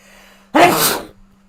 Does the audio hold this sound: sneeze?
yes